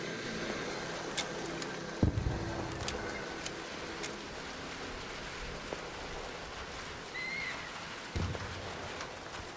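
Steady rain falls outdoors in the video game Arc Raiders, a soft continuous hiss of drops with a few sharper taps and knocks, heard alone without talk.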